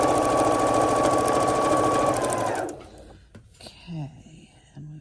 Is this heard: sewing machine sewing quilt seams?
yes